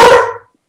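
A single short, loud dog bark nearby that cuts off quickly and fades into silence.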